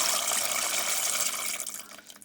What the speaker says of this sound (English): Lentils going in the pot.